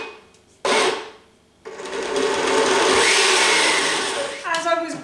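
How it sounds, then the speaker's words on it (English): A kitchen blender whirs through roasted beetroot and butternut squash soup with cumin: a brief loud burst, a short pause, then a long steady, grinding roar, with a voice briefly heard at the end. "what I'm going to do is just simply blend all of these ingredients together"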